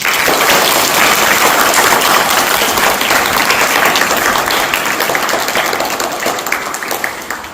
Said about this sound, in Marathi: आपण टाळ्या वाजवून स्वागत करायचं